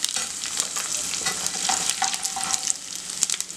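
Cumin, mustard seeds and dried red chillies hit hot oil already browning chana dal, crackling and popping in quick irregular bursts over a steady sizzle, close and fairly loud.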